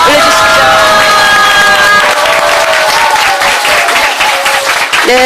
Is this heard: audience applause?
yes